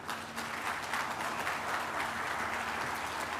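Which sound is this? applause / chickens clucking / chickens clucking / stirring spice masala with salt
applause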